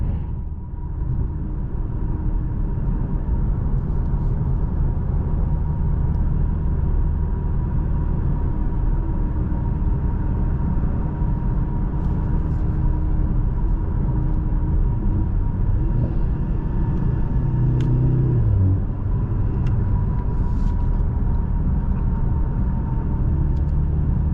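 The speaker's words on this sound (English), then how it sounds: "the engine still sounds really good despite being a 2-liter 4-cylinder" A 2023 Mercedes-AMG C 43 with a 2-liter 4-cylinder engine drives at steady speed, a constant low engine drone and road rumble filling the cabin without talk.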